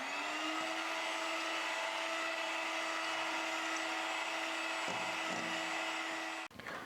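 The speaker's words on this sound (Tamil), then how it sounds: "இப்போது நம்ம முட்டையை கொஞ்சம் லைட்டாக பீட் பண்ணிக்கலாம்." An electric beater running steadily on medium speed, lightly beating eggs for an orange sponge cake. The whine is faint and constant with a brief clatter near the end.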